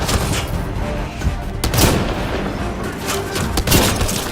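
Gunfire in a sci-fi shooter video game, a headshot among several loud cracking shots with booming low echoes, spaced irregularly over a rumbling battle background, close and punchy.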